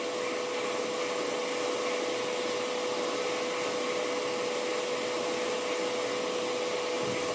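A hot air rework tool blows steadily to heat a RAM chip off a circuit board, a constant even airflow hiss with a thin tonal hum throughout, close and unbroken, with no speech.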